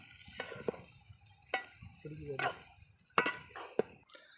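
Desi country chicken being stirred in a cooking pot, with a few scraping clanks of the spoon against the pot over a faint sizzle, close by and not loud, with voices speaking softly in the background.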